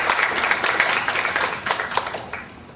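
Audience applause at a seminar on long-lived companies and corporate social responsibility, a full room of hands clapping steadily with distinct individual claps standing out, slowly easing toward the end.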